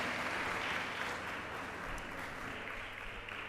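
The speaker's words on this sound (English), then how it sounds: "May we give a round of applause to sir for patiently answering the questions." A lecture audience at an English department endowment event claps steadily for a speaker after a question session, moderate and fairly even throughout with no voices over it.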